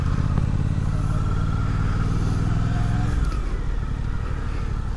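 A Suzuki GSX-8S motorcycle rolls into a parking lot, its engine a loud, steady low rumble close by that eases off after a few seconds, with some road clatter.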